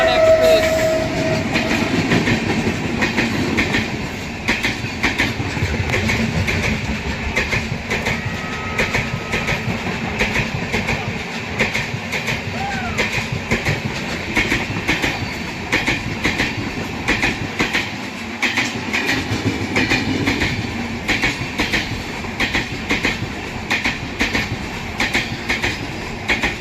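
An Andaman Express train runs past on the tracks, a steady loud rumble of wagons with faint clickety-clack and a brief horn-like tone near the start, continuous throughout.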